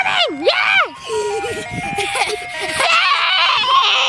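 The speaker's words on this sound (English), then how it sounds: "The ice cream truck is here!" An ice cream truck's tinny jingle plays close and loud while excited children and an adult talk and shout over it.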